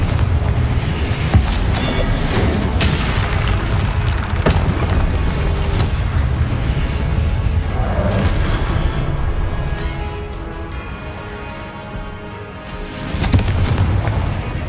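Confringo fire-blast spell in Hogwarts Legacy sets off a sustained stretch of booming, crackling blasts and rumbling impacts that fade briefly before a final loud swell.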